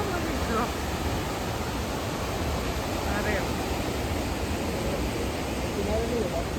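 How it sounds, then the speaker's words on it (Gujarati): Water flows steadily in a hillside stream in Dang, a broad continuous rushing hiss with faint gurgles, close and even throughout, with no talking. "ખડ ખડ પાણી વહેતું જાય છે"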